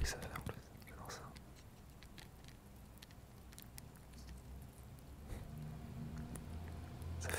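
Ice cubes in very cold water give off soft, scattered crackles and tiny clicks close by, faint and steady, with a low background rumble.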